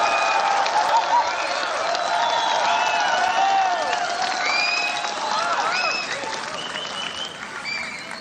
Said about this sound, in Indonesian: berikan aplaus, tepuk tangan yang semeriah-meriahnya kepada Prabowo Subianto